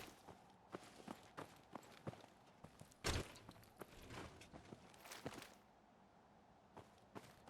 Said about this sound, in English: Hear the occasional sloppy wet footstep.